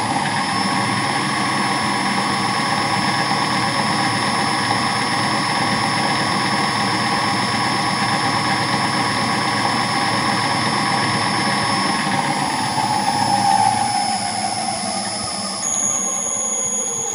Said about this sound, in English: Fan comes to full speed.